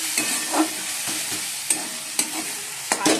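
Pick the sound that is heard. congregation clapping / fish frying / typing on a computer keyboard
fish frying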